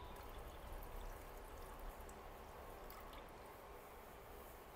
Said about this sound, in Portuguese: Então agora eu vou colocar mais 150 de água fria.